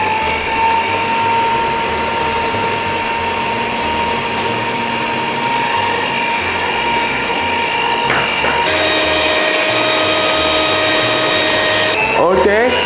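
Electric stand mixer kneading bomboloni dough, a continuous close motor whir with steady rhythmic thumping, the pitch shifting slightly partway through.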